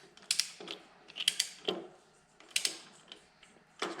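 A ratchet on a socket extension tightens 12-point engine head bolts on a Hammer 1250 kit, giving sharp, close bursts of rapid clicking in several irregular strokes with brief pauses between.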